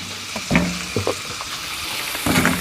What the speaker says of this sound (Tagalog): Imbes na ihawi natin, naging prito siya ngayon.